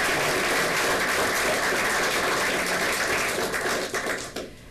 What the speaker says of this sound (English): And one more round of applause for Sheila.